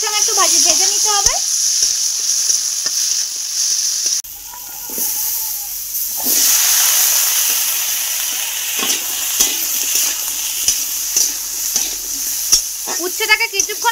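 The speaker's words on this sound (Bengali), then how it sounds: "উচ্ছেগুলোকে পেঁয়াজ আর পাঁচফোড়নের সঙ্গে একটু ভেজে নিতে হবে।" Bitter gourd frying in oil with onion and five-spice seeds, a steady loud sizzle with hiss, stirred now and then, and a voice talking briefly at the start and end.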